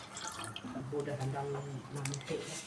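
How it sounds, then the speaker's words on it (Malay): Water pours into a pot of sop tahu putih in a home kitchen, a steady liquid trickle with someone talking over it throughout. "Kita masukkan air."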